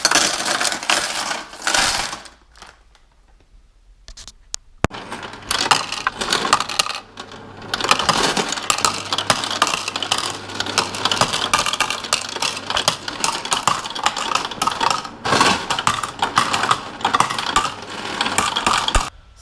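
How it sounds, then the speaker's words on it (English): A steady, dense clatter of coins pours through a 3D-printed coin counting machine, loud and close, with a mechanical whir underneath and a brief drop-off early on before the jingling resumes and continues throughout. "all we got to do now is load it up with money and see how she counts"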